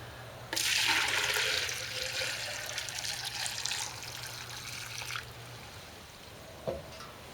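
Sparge water, about 2 gallons, runs and trickles steadily into an all-grain lager mash for several seconds, then tapers off to a quieter splash with a faint clunk near the end.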